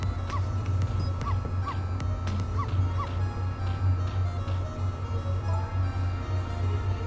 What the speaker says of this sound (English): You're not supposed to bark.